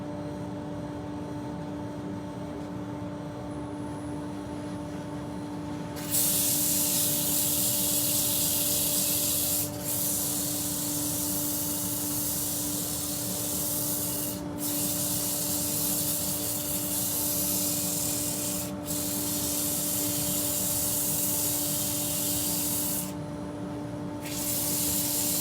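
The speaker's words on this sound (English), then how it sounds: "So we'll start off with a hand sand with 100." Teak being hand-sanded with 100-grit abrasive on a wood lathe setup, a steady close rubbing hiss in long strokes with brief pauses, over a constant low machine hum.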